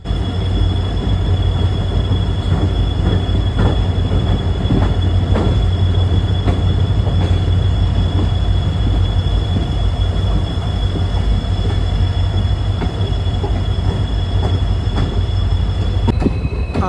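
A diesel locomotive hauls a passenger train between Mangalore Central and Subrahmanya Road, a loud, steady rumble of engine and rolling wheels on rails with a thin, sustained metallic whine carrying through the whole stretch.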